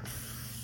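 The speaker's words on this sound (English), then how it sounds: "I'm gonna use some shine spray" Shine spray is misted onto hair in a single short, soft, continuous hiss, close but quiet.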